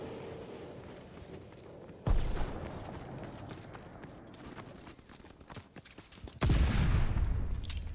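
Gunfire in a World War II shooter game, a dense crackle of distant rifle and machine-gun fire with two sudden loud blasts, one early and one late, under general battle noise.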